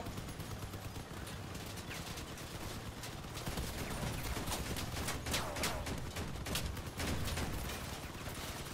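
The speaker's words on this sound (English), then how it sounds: "I've got autocannon fire on me" Autocannon fire in the vehicle combat game Crossout, rapid sustained bursts of cracking shots in a steady rattling stream, fairly faint and distant, with no talking.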